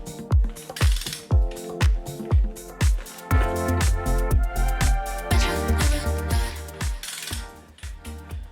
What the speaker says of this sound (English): the manual here is telling you to torque this up to 225 foot-pounds